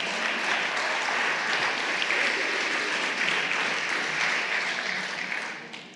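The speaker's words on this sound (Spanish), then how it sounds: "¿cuánto le dan un aplauso al Señor por sus talentos?" Applause from a church congregation fills the room as a thick, even wash of many hands, sustained throughout and fading slightly at the close.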